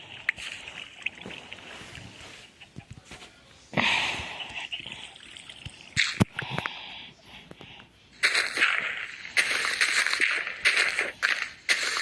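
Water is scooped up in the Minecraft video game, giving several separate sloshing, splashy bursts with quieter gaps between them and faint shuffling sounds in the background.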